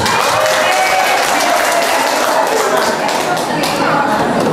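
Audience clapping steadily and loudly at an outdoor village-head election campaign rally in a hamlet, a dense wash of applause that keeps going throughout with faint voices mixed in.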